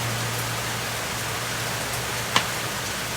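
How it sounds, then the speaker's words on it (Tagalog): Rain falling outdoors on a rainy, windy day makes a steady, even hiss with a low constant hum beneath it and one brief tap near the end, with no talking. "Kasi maulan."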